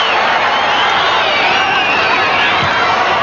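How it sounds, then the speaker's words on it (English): A large stadium crowd at a 1988 rugby league match roars and cheers as a player is tackled, a dense, loud and continuous wash of voices. "Crowd love it when Lewis gets tackled with the football"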